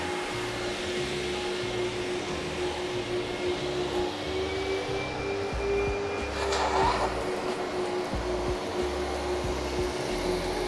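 An expensive £1,700 vacuum cleaner runs continuously in a suction test on a mat, a steady loud motor whine with a constant hum that holds throughout, without talk.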